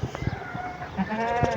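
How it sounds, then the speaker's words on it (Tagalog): A goat bleats nearby in a wavering, drawn-out cry, with other farmyard noise around it. "kambing."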